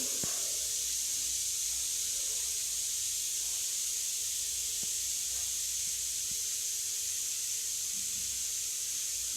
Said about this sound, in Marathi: बघा कांदा छान तेलामध्ये तळून घ्यायचा आहे आपल्याला.